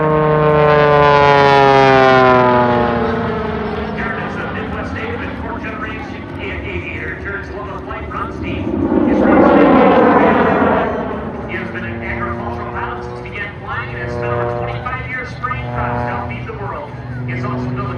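Aerobatic Jet Waco biplane performing at an air show, engine roar rising and falling with sweeping pitch changes as it passes overhead, loud at first, under an announcer's amplified voice.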